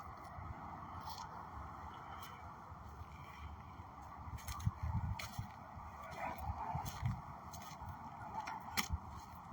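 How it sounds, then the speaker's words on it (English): Geese honk repeatedly in a steady chorus, a flock calling at moderate distance over a constant low background rumble, heard from a path into the woods. "There you go, a flock of birds."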